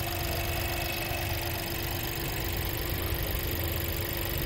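A 2022 Skoda Slavia Style with the 1.0 engine idles in a steady, even hum with a faint mechanical rattle, close and constant throughout with no talk.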